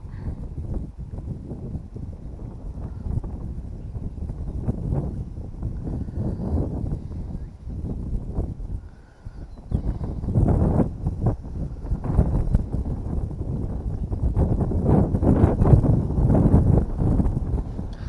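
Wind gusting outdoors beside a farm pond, a low rumbling buffet against the microphone that swells louder in the second half, no voices.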